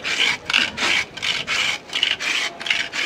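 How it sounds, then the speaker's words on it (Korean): A hand plane shaves a Taiwanese peanut candy block in quick repeated rasping strokes, about ten close scraping passes with short gaps between them. "그래서 대패로 얇게 얇게 밀어 드리는 겁니다."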